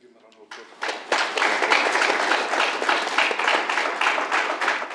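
An audience at an authors' forum breaks into dense, sustained clapping after a quiet second, with a voice faintly mixed in beneath the applause.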